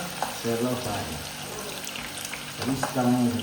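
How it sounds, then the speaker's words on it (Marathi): Onion deep frying in hot oil, a soft continuous bubbling sizzle at moderate distance with brief tonal clatters of utensils, and a voice talking faintly now and then. "तेल गरम झाल्यानंतर कांदा फ्राय करायला घ्यायचं."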